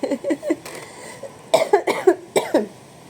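Several sharp coughs, a quick cluster of three followed by a longer run of hacking coughs, close and fairly loud.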